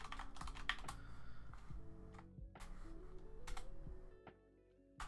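Keys on a computer keyboard clatter in quick, irregular bursts as a password is typed, close and fairly quiet, with short pauses between runs of keystrokes.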